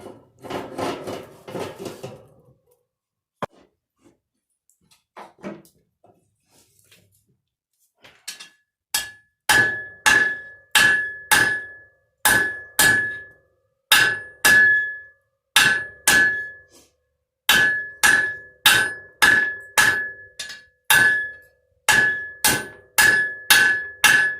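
A hammer pounds rebar on an anvil as it is forged into a knife, the ringing metallic blows coming in steady repeated bursts after some quieter handling noise at the start, loud and close with no talk.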